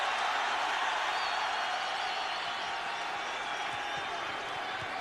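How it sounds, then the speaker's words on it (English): Basketball arena crowd at a 1991 Duke at Georgia Tech college game, a dense roar of cheering and clapping held throughout, loud and continuous with commentary voices underneath. "Listen to this crowd, though."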